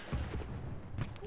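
Heavy cannon fire in the World War II shooter Enlisted, a few deep booming blasts close together over about a second, loud and near with no talk.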